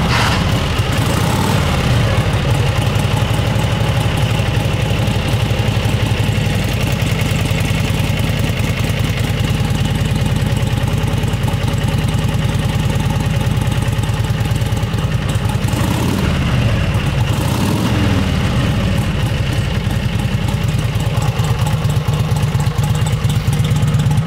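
A 1930s Harley-Davidson Knucklehead motorcycle engine idles steadily and loudly up close, a continuous low rumble that runs uninterrupted with no talking.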